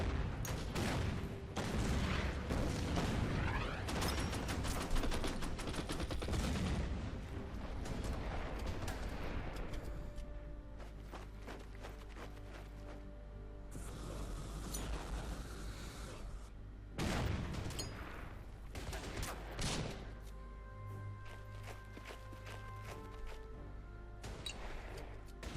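Artillery fire in the video game Order of Battle: World War II: repeated sharp booms and crashing impacts in irregular bursts, faint overall, with quieter gaps between volleys.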